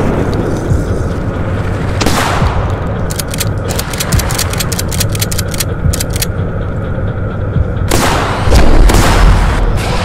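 Barrels burst in a rapid string of loud booms after being shot in a video game, a dense burst of blasts in the middle and heavier explosions toward the end, over a constant roaring game background.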